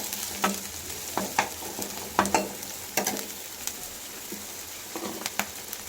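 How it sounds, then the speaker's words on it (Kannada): Onion and garlic frying and being stirred in a pan for mushroom pepper dry: a steady close sizzle broken by irregular scraping stir strokes, with no talking. "ಒಂದು ಈರುಳ್ಳಿ ಕಟ್ ಮಾಡ್ಕೊಂಡಿದ್ದೀನಿ ಹಾಕ್ತಾ ಇದ್ದೀನಿ ಸ್ವಲ್ಪ ಫ್ರೈ ಆಗ್ಬೋದು"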